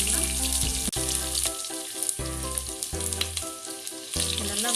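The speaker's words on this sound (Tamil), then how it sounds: "நல்லா வதக்கி விடுங்க" Onion with cinnamon stick and bay leaf sautés in a pan, giving off a continuous frying sizzle. Steady tonal music-like sounds play in the background.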